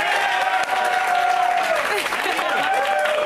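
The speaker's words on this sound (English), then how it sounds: "he's directing your applause." Studio audience applause and cheering welcoming the executive producer and star of the TV series Human Target, a loud steady wash of clapping throughout with a sustained tone underneath.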